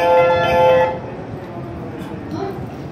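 A 185 series limited express train (Odoriko service) at a station platform: a loud sustained tonal horn or signal for about a second, then a steady low rumble of the train as it pulls out.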